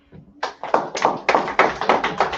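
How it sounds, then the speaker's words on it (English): A single person claps their hands in a quick series of about ten sharp, close claps with a steady, slightly quickening rhythm, heard alone during a class. "I'll clap it up."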